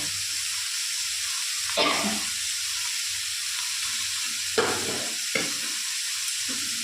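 Banana stem pieces fry in a pan with a steady broadband sizzle, broken by a few louder bursts of stirring and spatter; no one speaks.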